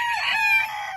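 A Bantam Polish or Silkie chicken in a winterized coop lets out a single brief, shrill crowing call, close and clear.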